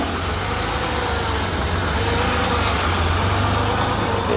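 An old car engine runs at a steady idle close by, a constant low rumble under broadband mechanical noise with no talking.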